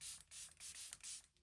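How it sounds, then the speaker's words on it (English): Fenty setting spray misted over a finished face of makeup, four or five quick hissing spritzes in a row, close and fairly soft. "Gonna seal everything in with the Fenty setting spray again."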